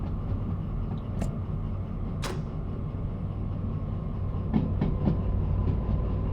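A train runs in the video game Derail Valley with a steady low rumble, a few sharp squeals and a cluster of rail clicks late on, all at moderate distance and without talk.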